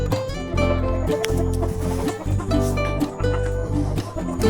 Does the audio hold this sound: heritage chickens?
yes